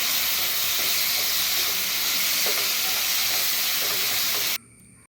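Tamarind water hitting a pan of frying chili and garlic sets off a loud, steady hiss and steam sizzle that holds strong, then cuts off abruptly near the end.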